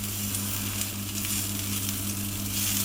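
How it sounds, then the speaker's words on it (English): Onions caramelising over low heat in a pan give a steady, close sizzle and crackle with a constant low hum beneath, no voices. "As you can see, the onions are starting to caramelise"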